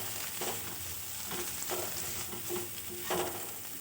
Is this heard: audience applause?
no